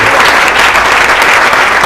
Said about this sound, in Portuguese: Pode aplaudir, aplauda mais.